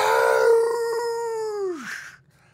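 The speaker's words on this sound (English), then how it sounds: "You hear a howl" A long, mournful howl rises and holds, then bends sharply downward and fades, sounding alone and fairly close, as a sound effect during a tabletop role-playing game session.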